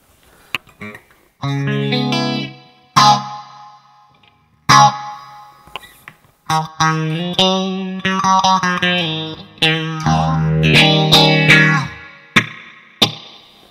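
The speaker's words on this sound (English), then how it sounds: "let's see what the spring sounds like" Electric guitar through a Nux Mighty Air amp with spring reverb and no delay, a series of plucked notes and chords whose tails ring out and shimmer between short gaps.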